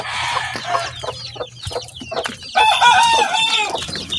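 A mother hen clucks repeatedly up close in a coop with chicks, with a rooster-like crow rising near the end; no talking.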